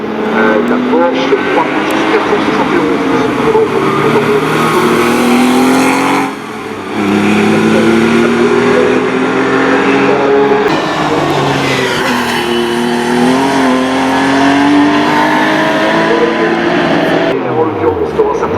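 A Porsche race car accelerating hard at the Col Saint Pierre hillclimb, its loud engine climbing through gears with shifts and a brief dip, heard close and continuous while a commentator speaks.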